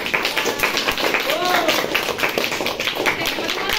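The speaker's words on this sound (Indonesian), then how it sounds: "Berikan aplaus." A classroom of students claps for a group after its presentation, a brisk patter of hands at close range that runs steadily throughout, with voices talking over it.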